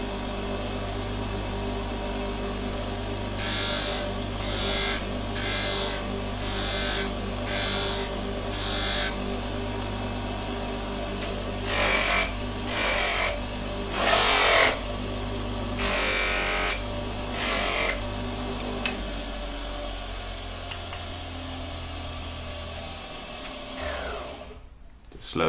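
A powered sharpening stone hones a woodcarving tool: a steady motor hum carries about ten short, bright bursts of grinding as the blade touches the stone, then the motor winds down near the end.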